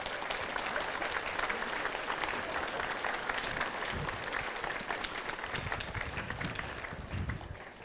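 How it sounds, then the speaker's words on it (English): Warm audience applause at an art and design summer show, a continuous wash of clapping from a crowd in a room that holds steady throughout, with a few faint voices underneath. "So a massive round of applause to yourselves,"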